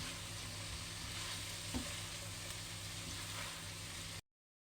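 Fried potatoes and kofta meat sizzle steadily in a hot pan while being stirred, a soft continuous crackle with a faint scrape or two, cutting off abruptly near the end.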